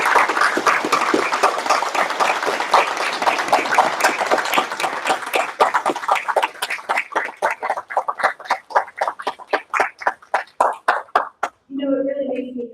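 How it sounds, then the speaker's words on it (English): A room full of people claps for five students, starting as dense, loud applause that thins to scattered claps before it fades out, and a voice picks up right at the end. "I just want a round of applause for these 5 incredible students"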